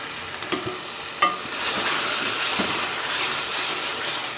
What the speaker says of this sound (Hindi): ये इसको हम भूनते हैं ताकि इसका ऑयल सेपरेट हो जाए और अच्छे से इसकी भुनाई हो जाए।